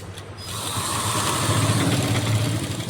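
A sewing machine runs steadily while stitching a shirt collar for a kurti, a continuous close mechanical whir with a faint rhythmic clatter lasting about three seconds and no voices.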